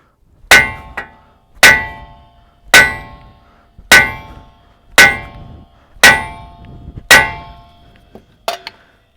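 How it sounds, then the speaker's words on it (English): Hammer striking a ball joint on a 1992–2000 GM 4WD K truck, seven loud, ringing metallic clangs at a steady pace of roughly one per second, each followed by a quieter rebound tap and a few lighter knocks at the end. "Step up to a larger hammer now."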